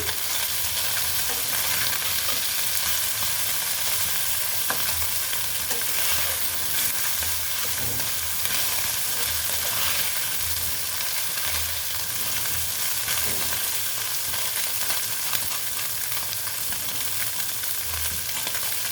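Small mourola fish fry in hot oil in a pan, giving a steady, dense sizzle and crackle that runs unbroken and fairly loud, with faint stirring and scraping underneath.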